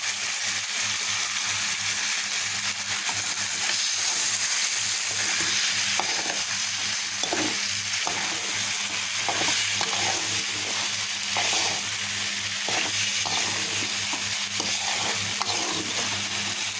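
Vegetables sizzle and fry steadily in a pan while a utensil scrapes and stirs them, with roasted cumin powder being mixed in; close, continuous crackle with irregular scraping strokes and no talk.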